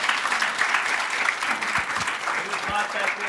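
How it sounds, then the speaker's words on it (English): Applause from an audience at an active shooter preparedness training for police, a steady wash of clapping across the whole stretch with a voice or two faintly audible beneath it. "Give him a round of applause for going down a water slide."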